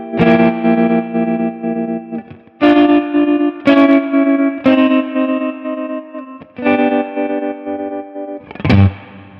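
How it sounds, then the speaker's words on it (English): Guitar played through a Walrus Audio M1 modulation pedal set to a rhythmic delay: loud, distorted sustained chords in choppy blocks, each cut off and restarted with pulsing repeats, no voices. "That's like that rhythmic delay."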